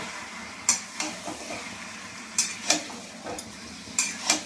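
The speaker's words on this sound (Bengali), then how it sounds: "মাংসটা দিয়ে ভালোভাবে একটু কষে নিই।" Meat sautéing in a pan for a curry with tender bottle gourd, a soft steady sizzle broken by several sharp scraping stirs of the spatula against the pan, close and alone.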